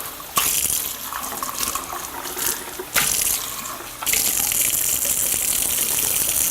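Tap water runs into a sink while a bell pepper is rinsed under it, a steady close gushing stream that shifts in tone and loudness as the water flow changes.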